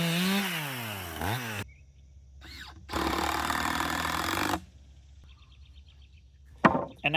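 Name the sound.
chainsaw trimming tops of wooden posts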